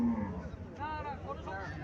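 A crossbred cow or calf lows in drawn-out moans at a crowded cow fair in Mirshanni, Comilla, with voices chattering around it.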